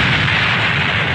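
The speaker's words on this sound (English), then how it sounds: "Oh God, I had a nuclear explosion." A loud, rumbling blast fills the moment, a dense roar of a nuclear explosion with heavy low-end boom and no voices.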